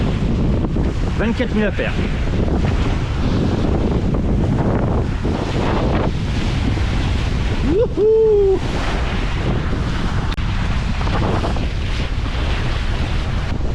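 Wind rushes steadily over a sailboat making about 8 knots in roughly 20 knots of wind in the Dominica channel, with waves breaking around the hull in a continuous loud roar; a person speaks briefly and gives a short whoop over it.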